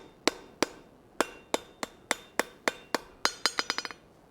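Hammer blows ring out on steel at an anvil while tongs are forged, about fourteen sharp metallic strikes, evenly spaced at first and then quickening into a rapid burst of lighter taps at the end, close and clear.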